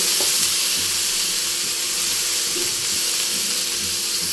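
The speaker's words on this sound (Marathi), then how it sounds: "कांदा परतला, त्यात हळद टाकली, कारण तिखट टाकलं. आणि आता ही डाळ टाकून घेते." Soaked lentils hit a pan of fried onion, turmeric and chili powder and sizzle in a steady, even hiss with faint stirring underneath.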